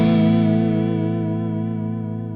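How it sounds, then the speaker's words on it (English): A sustained electric guitar chord rings out through a Walrus Julianna stereo chorus/vibrato pedal set to a sine wave shape, its pitch wavering smoothly and gently as the note slowly decays. "So this is sine wave."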